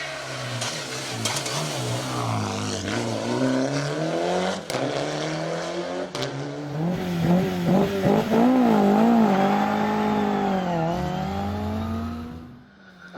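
A Sunbeam rally car on a tarmac stage, fitted with a new engine, revs hard and its pitch swoops up and down as it slides sideways, with tire squeal, loud and close, and no talk.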